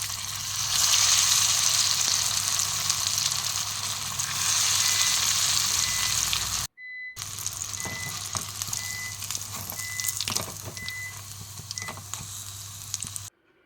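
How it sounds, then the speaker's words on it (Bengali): Potato snacks deep-frying in hot oil sizzle steadily and close by. A brief break falls midway, then faint repeated beeping tones sound over the continuing sizzle, with no talk. "সবগুলোকে একইভাবে আমি ভেজে নিয়েছি"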